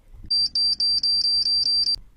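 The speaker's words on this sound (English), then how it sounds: "A beeping noise started emitting from Alfredo's body" A rapid run of about eight shrill electronic beeps, loud and close, that stops abruptly.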